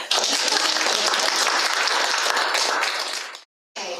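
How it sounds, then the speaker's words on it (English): A congregation claps loudly and steadily during a church service, a dense continuous burst of applause that cuts out abruptly, followed by a short resumption. "You can clap."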